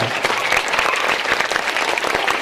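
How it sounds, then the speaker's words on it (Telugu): Audience applause at a school Christmas and Sankranthi celebration, dense continuous clapping from many hands, loud and close, filling the whole span without talk. "ఒకసారి అమ్మ నాన్నకు ఒకసారి గట్టిగా క్లాప్స్ కొట్టండి, గట్టిగా చేతులు పైకి లేపి"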